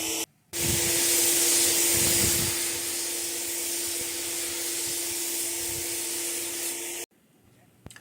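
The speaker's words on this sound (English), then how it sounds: "The spray that comes out that does blow away dries within a couple of feet" A paint spray gun coating a motorhome body onsite in an RV park, a steady loud hiss of atomized spray lasting several seconds before cutting off abruptly.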